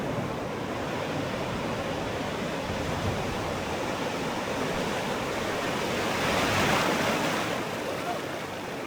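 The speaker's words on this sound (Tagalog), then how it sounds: "Lalaki ng alon mga kabukid." Big ocean waves rolling in on the beach at Baler, a broad continuous roar of surf that swells louder near the end, with faint voices barely under it.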